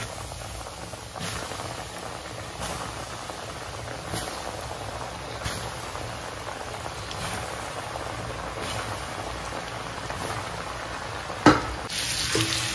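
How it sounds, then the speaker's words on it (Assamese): Oil sizzles and crackles steadily as KFC-style chicken fries in a pan, with a few faint clicks and a brief clatter near the end. "এইখিনিও ফ্ৰাই কৰি ল'ম এতিয়া"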